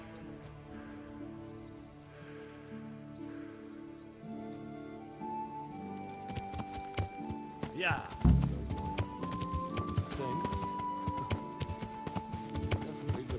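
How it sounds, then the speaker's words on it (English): Horses gallop in the video game Kingdom Come Deliverance, with steady hoofbeats coming closer and growing louder under a musical score, and a brief spoken word near the end. "Two horses come running."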